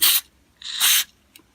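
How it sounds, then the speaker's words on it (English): Carb cleaner sprayed from an aerosol can through the holes of a Honda HRH536 lawn mower carburetor after two years of storage: two sharp hissing bursts close up, then a brief faint spurt. "So now I'm going to spray it with carb cleaner and the safety glasses again, and just spray through all the holes."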